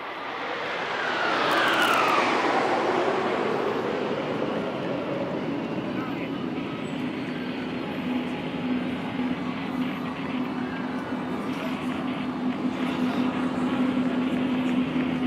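Indian Air Force Suryakiran aerobatic team jets flying overhead at an air display, a broad roaring jet rush that swells within the first two seconds, then a steady loud drone with a sustained engine hum for the rest.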